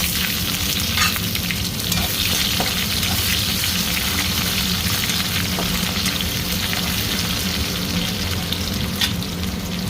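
Garlic and onion fry in a hot pan with a loud, constant sizzle and crackle, occasional light stirring clicks breaking through the steady hiss.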